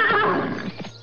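A horse neighs loudly and close by in a Sundanese story, one strong whinny that falls away within about a second.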